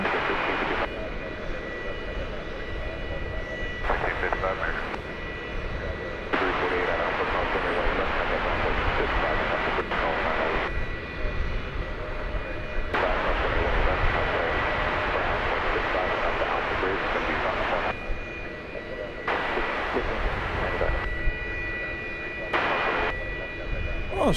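A Boeing Dreamliner jet airliner taking off at DFW Airport, with a loud, sustained engine roar that swells and fades in broad waves while a voice talks over it.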